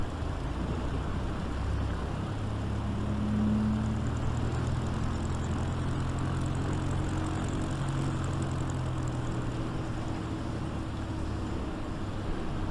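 An Ercoupe 415 light aircraft taxis in Microsoft Flight Simulator 2020, its propeller engine giving a steady, low, even drone that holds at constant volume throughout, with no talking.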